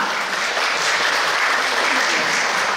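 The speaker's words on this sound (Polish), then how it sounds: "Poproszę o brawa." A concert audience in a hall at a Mother's Day concert in Miechów breaks into loud, dense, continuous applause, a full steady roar of clapping throughout.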